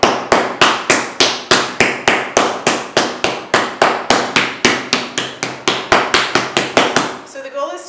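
Clay slab repeatedly slammed down onto a surface to compress it, about thirty loud, close, evenly spaced slaps and thuds in a fast steady rhythm before a short rustle at the end.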